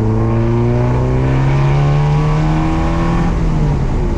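A Porsche 968 CS fitted with a SCART exhaust pulls hard under acceleration. The loud, close engine note rises and holds through the gears in a steady drone, with no voices over it.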